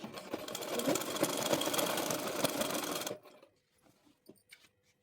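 Sewing machine stitching elastic onto palazzo pants, a steady loud mechanical whirr running for about three seconds, then stopping abruptly and leaving only faint handling clicks.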